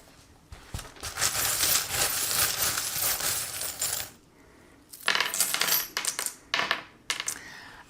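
Metal charms cast for a reading, a long jangling rattle of small pieces shaken together, a pause, then several shorter clinking bursts and scatters landing close by.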